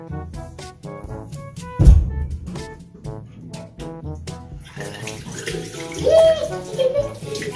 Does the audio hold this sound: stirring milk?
no